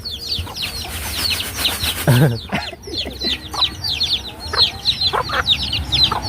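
Chickens cluck and chirp repeatedly close by in a farmyard, with a brief rustle or thump midway and a few quiet words spoken.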